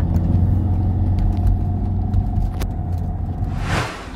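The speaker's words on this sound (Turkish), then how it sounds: "Arkadaşlar şu anda Muzaffer abiyle beraber yol testine çıktık. Captiva aracımızı test ediyoruz." Chevrolet Captiva SUV fitted with a hybrid turbo on a road test, giving a steady low engine and road rumble from inside the cabin, with a brief rising whoosh near the end.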